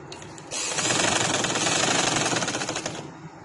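A sewing machine stitches around a dress neckline, starting abruptly and running in a loud, fast, steady mechanical chatter for about two and a half seconds before slowing and stopping.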